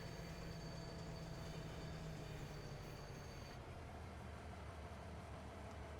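A train rolls steadily along in Farming Simulator 25, a constant low rumble and rail hum with a faint high whine that drops out midway, no voices.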